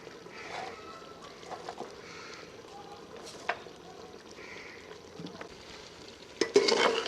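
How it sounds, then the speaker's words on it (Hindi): Goat head frying in oil over high heat, giving a continuous soft sizzle with occasional spoon-stirring scrapes and clinks, and a louder burst of clatter and sizzle near the end. "10 मिनट के लिए इसे भून लेंगे ऑयल में"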